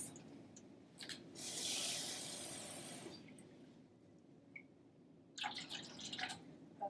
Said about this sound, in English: I spilled water all over this paper